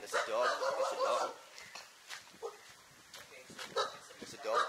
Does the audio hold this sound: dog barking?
yes